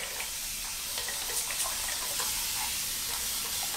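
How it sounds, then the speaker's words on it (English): Water sprays or runs steadily onto hair during a styling refresh, a continuous hissing wash of sound with no talk. "So I'm just gonna add a little bit of water."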